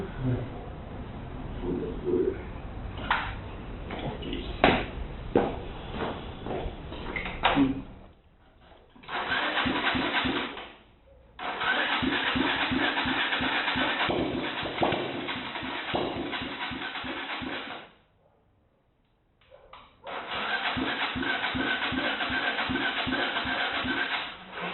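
A motorbike engine being kicked over after fitting it to the frame, with spark plug, carburetor and oil in place, sputtering into bursts of rough idle that cut out and restart, with people talking at the start.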